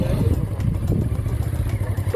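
Motorcycle engine running at low, steady speed during sharp U-turn practice with gradual clutch release, a continuous low rumble with slight fluctuations throughout.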